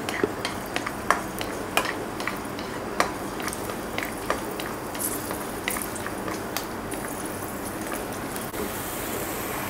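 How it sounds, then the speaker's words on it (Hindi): Chopped garlic sizzles in hot oil while a utensil stirs and scrapes the pan with scattered clicks and taps, close by and with no talking. "देसी लहसुन को चॉप कर लिया, ये इसमें डालूँगी और इसको हल्का सा चला दूँगी"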